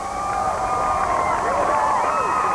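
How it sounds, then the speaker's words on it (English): Fans cheering at a UConn homecoming, a continuous roar of crowd noise with whistles and shouts rising and falling over a steady wash, loud and sustained throughout. "The fans are cheering."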